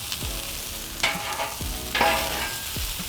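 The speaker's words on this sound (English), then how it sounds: "this is not really caramelizing them per se, just sauteing them, normal version" Onions sauteing in a pan for burgers, a steady close sizzle broken by a few scraping stirs and brief louder bursts as they are moved around.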